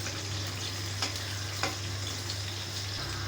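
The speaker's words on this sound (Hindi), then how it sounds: "अब हम इसी सेम ऑयल में आलू फ्राई करेंगे" Potatoes frying in the same oil just used for eggplant give a soft, steady sizzle with a couple of brief stirring scrapes.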